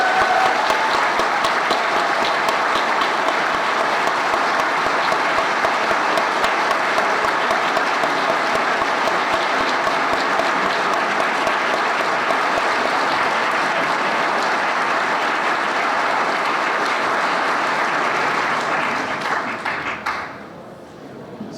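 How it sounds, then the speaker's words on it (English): An audience at a leadership event applauds the candidates with a long, loud, dense round of clapping that holds steady for about twenty seconds before tapering off at the end. "let's show our thanks with a robust round of applause for all of them."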